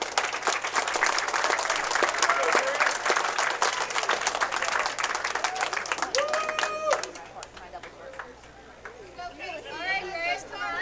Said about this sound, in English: let's give these 4 competitors a round of applause